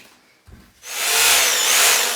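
After a brief knock, a power drill whirs up loudly and keeps grinding steadily as it bores a hole through material including steel, in a flooding cellar.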